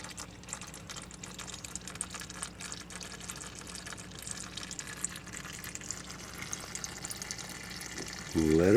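Transmission fluid drains steadily from a Nissan Maxima, a continuous close trickle with a brief louder splash near the end.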